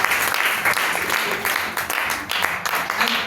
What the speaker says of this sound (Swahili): Makofi mazuri kwa mtumishi wa Bwana.